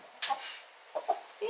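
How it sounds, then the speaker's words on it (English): A chicken clucking indoors inside a house, a few short close clucks and soft vocal bursts separated by quiet gaps, faint and alone without talk. "Hey little girl. Little chicken."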